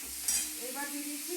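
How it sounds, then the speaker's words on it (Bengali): Green chillies and tomato fry in a pan with a soft, steady sizzle, a brief scrape of stirring, and no talk heard. "এবার 3টে কাঁচা লঙ্কাও এর মধ্যে ভেজে দিলাম, টমেটোটাও দিয়ে দিলাম।"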